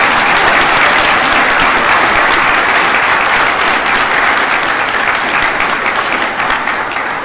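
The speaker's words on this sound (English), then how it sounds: "Could you please give them a round of applause?" A large graduation ceremony audience applauds honors graduates, a loud, dense, sustained ovation of clapping that holds steady throughout with only a slight easing at the end.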